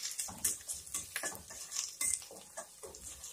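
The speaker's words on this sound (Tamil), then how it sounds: "இப்போ இதுவும் நல்லா நம்ம வதக்கிக்கிடலாம்." Crushed garlic and onions being sautéed in a pan for brinjal tamarind curry, with repeated clinks and scrapes of a spoon against the pan over a faint sizzle, close and moderately loud, no talking.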